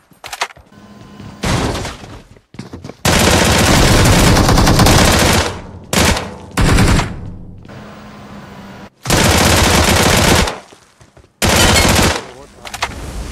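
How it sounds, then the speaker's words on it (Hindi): Gunfire in the PUBG Mobile video game: loud bursts of automatic fire in several long and short volleys separated by brief quiet gaps, close and dominant. "यार कैसे गोलियां उसके आगे से निकल रही हैं?"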